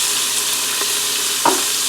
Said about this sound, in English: cut up chuck roast here and start browning that on both sides